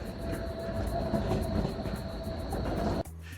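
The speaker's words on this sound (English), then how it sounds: "A train passes through the neighborhood hourly," A train rumbles steadily past through a Berlin residential neighborhood, a broad rolling roar with a faint high whine, then cuts off abruptly near the end.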